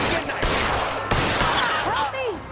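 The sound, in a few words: gunfire in a video game (L.A. Noire)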